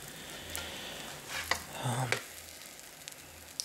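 Food sizzling quietly in a pan just after being flipped, a soft continuous fry with a few clattering scrapes and taps of a utensil against the pan.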